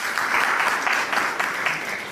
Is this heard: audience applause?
yes